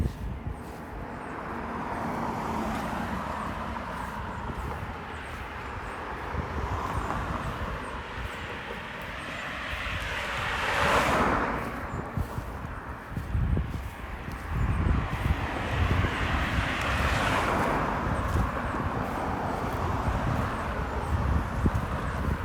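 Outdoor ambience near Grantley Adams International Airport in Barbados, a steady broadband roar of traffic and distant aircraft that swells midway and again toward the end, with no talk.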